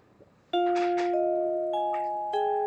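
Bell and glockenspiel tones from a game soundtrack for Gibbous: A Cthulhu Adventure, with bright sustained chimes entering in three staggered strikes and ringing on alone.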